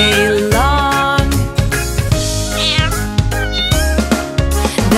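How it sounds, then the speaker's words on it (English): A series of sung cat meows in a children's farm animal song over a bouncy tune, repeated in quick succession, loud and close. "The cat on the farm goes meow, meow, meow, all day long."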